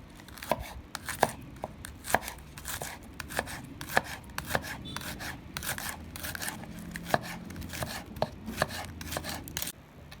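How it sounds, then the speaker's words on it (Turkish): Rapid knife chops through lettuce on a cutting board come in quick uneven bursts, crisp and close, with soft rustling between strokes and no talking. "Marullarımızı doğramaya başlıyorum."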